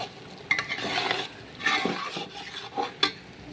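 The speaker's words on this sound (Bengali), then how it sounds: "আর এবারে আমি দিয়ে দেব চিকেনটা, ভেজে রাখা আলুটাও আমি দিয়ে দেব। সমস্ত কিছুই ভালো করে নেড়ে চেড়ে নিতে হবে।" Chicken and fried potatoes are stirred in a pot for chicken bhuna khichuri, a spoon scraping and clinking in several distinct strokes over a soft background sizzle, no talking.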